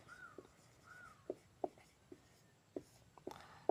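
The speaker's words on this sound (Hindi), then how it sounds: "हेडिंग लिखेंगे अधातुएं या अधातु" Chalk taps and scrapes across a blackboard while a heading is written, a quiet run of short, irregular clicks and strokes with no talking.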